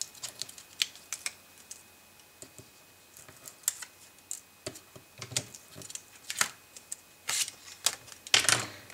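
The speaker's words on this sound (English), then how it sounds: "I'm just going to take off all of this score tape I put on the back." Score tape peeled off the back of a paper card: a series of short, close crackling rips and ticks at uneven intervals, louder bursts near the end, with no talking.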